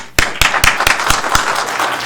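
Applause for city council members at a Federal Way city council meeting, a short burst of sharp, close claps with a few distinct strong hand claps over a dense wash of clapping from the community crowd.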